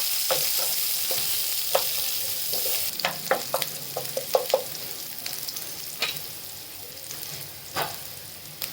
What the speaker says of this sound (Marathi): आता एक ना कांदा असा थोडा जाडसर चिरून घेतला तो पण टाकतो कांदा पण चांगला भाजून घ्यायचा आता तेलामध्ये